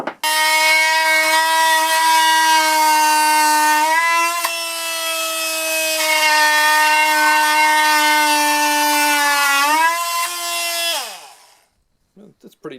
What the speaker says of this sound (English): That's pretty damn good for doing plunge cuts like that.